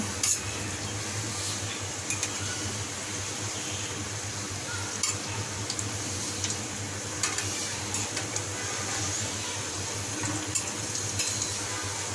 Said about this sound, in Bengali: মিডিয়াম টু লো হিটে এগুলোকে ভাজতে হবে